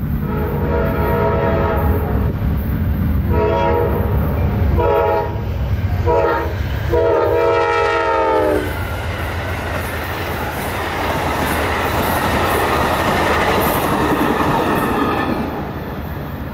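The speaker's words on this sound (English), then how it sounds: "That was Amtrak P082 running probably about an hour or so late." Amtrak P082 passenger train, running northbound, sounds several loud horn blasts as it approaches and rumbles past with steady wheel and rail noise.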